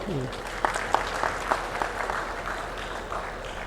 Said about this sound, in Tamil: அதுக்கும் ஒரு கரகோசை கொடுக்கணும்.